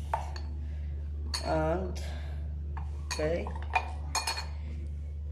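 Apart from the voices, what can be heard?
metal spoons placed in a glass bowl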